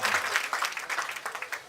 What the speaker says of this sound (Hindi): मैं चाहता हूँ एक बार राजेश भैया के लिए भी आप जोरदार तालियां बजा दें।